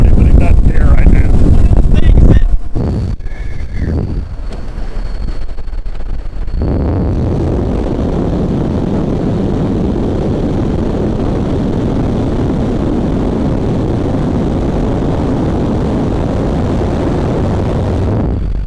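A Vexus VX20 bass boat runs across the water with its motor driving hard, making a loud, constant roar mixed with heavy wind buffeting. A sharper rush in the first seconds settles into a steady drone.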